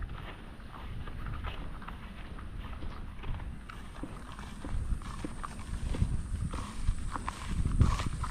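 Horse hooves clip-clop along a cleared dirt path through a farm field, a steady walking rhythm heard at moderate distance under light wind noise and outdoor ambience.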